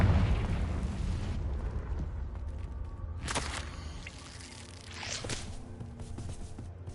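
A Confringo blasting spell explodes in a wizard video game, with broadband bursts near three and a half and five seconds over a steady rumbling game backdrop.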